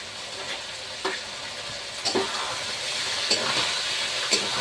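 Eggplant pieces fry in a pan with a steady sizzle and hiss, a few soft clinks and stirring scrapes now and then; no talking.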